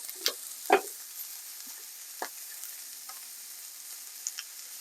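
Moroccan meatballs fry in a very hot pan with oil, a faint low sizzle broken by a few sharp clanks and scrapes of a utensil, otherwise quiet.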